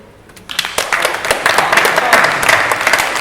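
An audience at a student union referendum debate breaks into applause at the close, and the clapping quickly swells into a loud, sustained burst.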